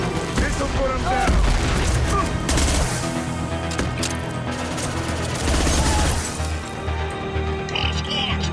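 Creatures burst apart as they die in Mass Effect, loud booms and crashing blasts piling up amid dense combat noise and music, with voices speaking over the chaos.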